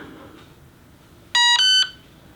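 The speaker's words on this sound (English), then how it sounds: "I'm going to wait for one beep." An RC airplane's electronic speed controller beeps during throttle calibration, sounding two short, loud, bright electronic tones in quick succession over a quiet background.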